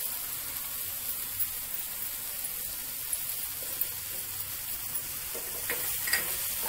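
Tomato with salt and capsicum cooking in a pan, a steady soft sizzle with faint stirring scrapes, close and continuous with no talk.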